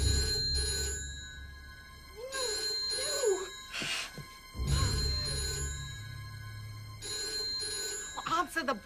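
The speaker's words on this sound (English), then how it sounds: "Answer the bloody phone." A telephone bell rings repeatedly in bursts, clear and prominent, with people talking in between and over the rings.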